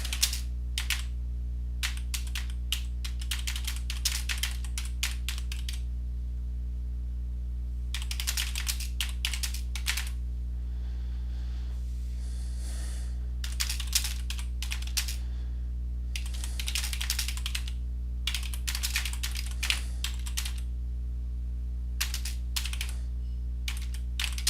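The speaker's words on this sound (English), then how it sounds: "I type so badly it really slows me up." Someone types a report on a computer keyboard in bursts of rapid, close key clicks, with pauses between runs, over a steady low electrical hum.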